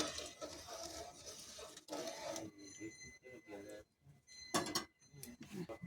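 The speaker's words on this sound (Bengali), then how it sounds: "আবার একটু নাড়াচাড়া করে দেবো" A spoon stirs ghugni cooked with mutton fat in a pot, giving repeated scraping and clinking strokes at close range while a person talks over it.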